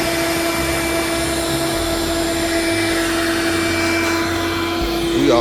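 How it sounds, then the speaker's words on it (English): A vacuum cleaner runs nonstop inside a Mercedes-Benz GT53 AMG during a mobile car wash, making a loud, steady whine with a constant high tone and a few shifts in pitch as the nozzle moves. "already got started with the vacuuming"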